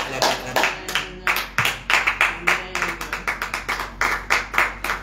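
A church congregation at a Tuesday morning prayer service claps in a steady rhythmic beat, loud and close, with cheering voices and talk mixed through the claps.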